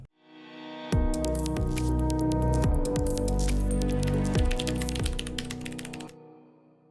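Continuous typing on an IKBC Typeman W210 wireless mechanical keyboard with Cherry MX switches, a dense run of close, loud key clacks for several seconds with occasional heavier strikes, then stopping.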